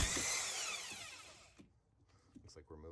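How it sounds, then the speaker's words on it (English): An impact wrench rattles loose a 17mm bolt on the driver side CV axle of a first- or second-generation Mazda3, a short loud burst that fades out, followed by near quiet and a brief voice. "I'm going to take 17mm and I'm going to impact this off."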